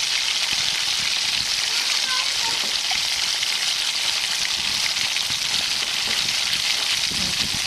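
Poori curry ingredients with turmeric and salt sizzling in a pan, a steady loud frying hiss throughout with faint clinks.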